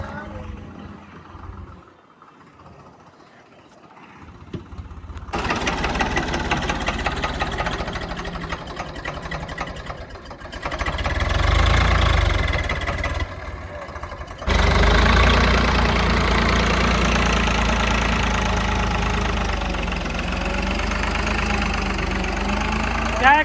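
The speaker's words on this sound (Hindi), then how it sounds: "तो ये चल रहा है स्वराज" A Swaraj tractor's engine runs steadily at a field being levelled, a continuous low chugging rumble that rises and falls in loudness, with people talking over it.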